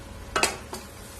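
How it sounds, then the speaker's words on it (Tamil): A ground paste of coconut, garlic and cumin sautés in a pan: a low sizzle runs throughout, broken by two quick, close scraping strokes of a spoon. "தேங்காய் பூண்டு எல்லாம் லேசா வதக்கிக்கலாம்."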